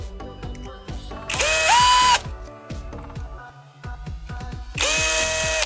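A power drill backs screws out of a bedroom wooden door's lock hardware, with two loud whirring bursts, the first rising in pitch as it spins up, separated by clicks and handling taps, heard up close.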